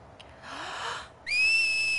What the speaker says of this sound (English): She learned a whistle.